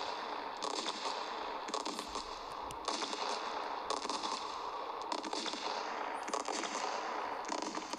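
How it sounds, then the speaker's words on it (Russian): A long fireworks salute during an Old New Year celebration crackles and pops in a dense, unbroken stream of bursts, fairly distant and subdued, with sharper reports now and then. "Вот он долгий салют."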